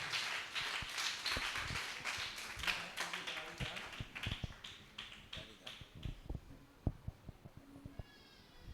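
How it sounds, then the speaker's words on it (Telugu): A church congregation claps in praise, a run of uneven hand claps and taps close by, with faint voices mixed in. "చప్పట్లు కొట్టి దేవపరచు."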